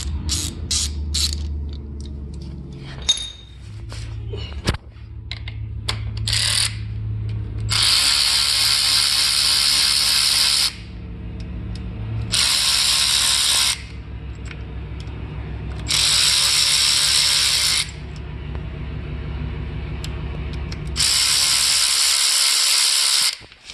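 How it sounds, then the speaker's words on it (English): A flexible head ratcheting wrench works on the oil pan bolts of an SVT Cobra, close metallic clicking and turning at first, then several long bursts of harsh whirring ratchet noise separated by short pauses. "Get one of these flexible head ratcheting wrenches to take the bottom 2 bolts out"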